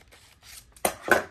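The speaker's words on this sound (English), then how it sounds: "Keep it folded and then cut it." Scissors cut through folded fabric scrap for a sewing project, giving two short, crisp snips close by after a soft rustle.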